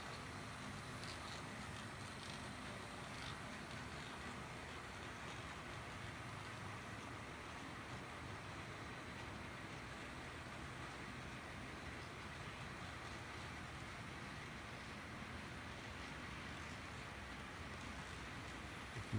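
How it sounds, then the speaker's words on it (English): A quiet, steady rolling rumble of a small HO-scale model train running along its track on a layout, with faint clicking and no voices. "there's our automobile train coming up again the other side."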